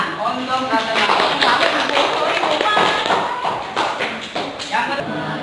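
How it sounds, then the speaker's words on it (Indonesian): A classroom group claps for a student presenter, a close, uneven run of hand claps with some taps and thumps, and voices talking over it. "Kasih tepuk tangan untuk Ratu Naura."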